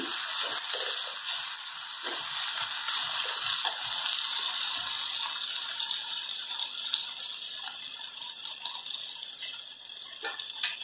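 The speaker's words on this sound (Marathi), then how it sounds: "टोमॅटो तेलात छान भाजून घेऊया" Tomatoes fry in oil for a green chilli kharda saar, giving a steady high hiss of sizzling with small scattered pops and ticks throughout, fairly close, with no voices.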